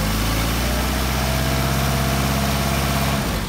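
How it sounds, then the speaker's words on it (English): A car engine fitted with carburetors idles cold, a loud, steady close-up rumble with a low throbbing pulse that changes slightly near the end. "these carburetors are behaving very nicely. I mean, cold, that's a pretty darn nice idle"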